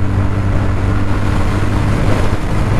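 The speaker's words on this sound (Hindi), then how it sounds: "तो फिलहाल मैं फुल थ्रॉटल दिया हूँ 60" A TVS Ntorq 125 scooter, a 2023 BS6 model, runs at full throttle with a steady, loud engine drone and road rumble that holds constant throughout, with no voices.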